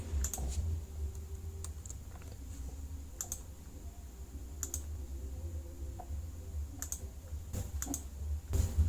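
Computer keyboard keys clicked for Excel shortcuts such as Ctrl+T, sounding as sparse, close key taps over a steady low background hum, with a few sharper clicks near the start and end.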